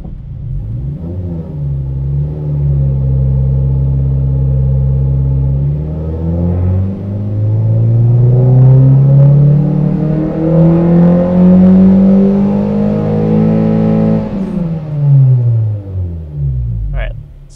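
9th-gen Honda Civic Si naturally aspirated engine at full throttle on a dyno, a loud, close rising roar that climbs steadily in pitch, then drops sharply as the throttle closes.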